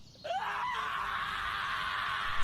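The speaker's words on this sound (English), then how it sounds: "Fuck are you screaming for, boy?" A boy screams in one long, loud, sustained cry that starts abruptly after a brief quiet moment and holds steady to the end, with no talking.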